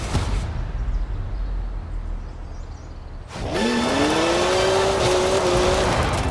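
A BMW 1M in Forza Horizon 4 drives off, with a loud rushing roar that gives way to a rising engine whine as it accelerates, close and steady.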